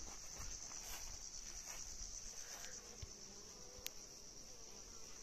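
Honeybees swarm around a hive in a Bolivian apiary, a steady high buzzing drone that fills the whole stretch with a few louder wingbeats passing close by.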